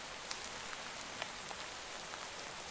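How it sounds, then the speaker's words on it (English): Steady, soft rain falls in the Cozy Craft video game, a continuous hiss with scattered faint drop ticks and no talking. "Ooh, that's such a relaxing rain."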